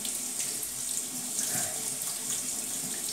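Tap water runs steadily through a brand new brush held under the faucet, a continuous close hiss and splash into a sink with no talking.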